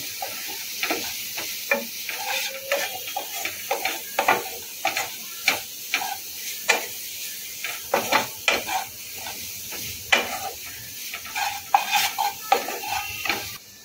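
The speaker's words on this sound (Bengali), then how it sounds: "এটা মশলা। ভালো করে মিশিয়ে নেব।" Spices are mixed into a fish ball mixture with a utensil, giving a steady rhythmic series of close clinks and scrapes against the container, repeating roughly every half second.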